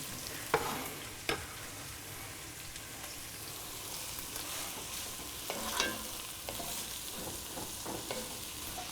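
Red onions, carrots and red peppers sizzle steadily in a pan, a faint even frying hiss with occasional spatula taps and scrapes. There is no talk.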